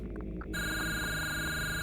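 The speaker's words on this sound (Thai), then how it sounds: "โทรศัพท์" A telephone rings in the horror game Silenced, a steady electronic ring that starts after a brief quiet moment and holds loud and continuous.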